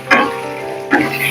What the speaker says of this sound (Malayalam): ഞാൻ ആദ്യം ഇപ്പൊ ഇതിനകത്ത് ഇനി നമ്മൾ കാഷ്യൂനട്ട് വറുത്തെടുക്കുക.